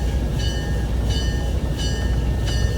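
A museum train on the Tennessee Valley Railroad rolls along the tracks with a constant low rumble and a regular clickety-clack of wheels over rail joints, steady and fairly close, with no talking.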